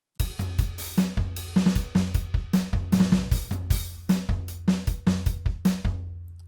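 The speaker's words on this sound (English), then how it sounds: "And lastly, we have some drums using Superior Drummer" A Superior Drummer drum kit plays a steady groove: punchy kicks, sharp snare hits and bright cymbals in an even rhythm, close and clear with no other instruments.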